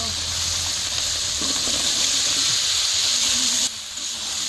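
Taro pieces hitting hot fried spice paste in a pan for a Bengali rohu fish and taro curry, giving a loud steady sizzle and hiss with faint background talk.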